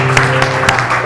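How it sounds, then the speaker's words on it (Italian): Applause for a bride and groom at a wedding dinner at a villa, a loud, dense crowd clapping from many hands, steady and continuous with a few sharper claps standing out. "facciamo un applauso"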